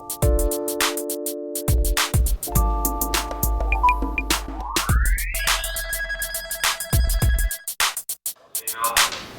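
Telephone ringing during an outgoing call: a repeated electronic ring in regular bursts with a rising sweep tone partway through, loud and clear, with no talking.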